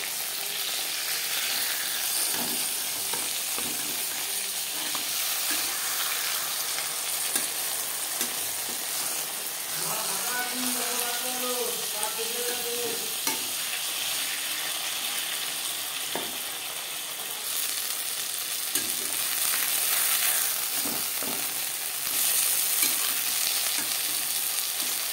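Fish paturi wrapped in gourd leaves fries in a pan over low flame, with a steady close sizzle throughout and a few faint clinks and bubbling bursts in the middle.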